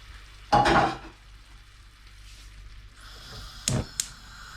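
Gooseberries frying with softened, browned garlic and peppers in a pan, a quiet sizzle broken by a loud scraping stir early on and a few sharper clinks of a utensil near the end.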